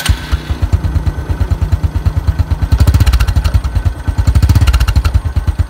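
A 2011 Honda Future motorcycle idles during an engine test, a loud, close, rapid and even putter with a light mechanical clatter that swells slightly partway through.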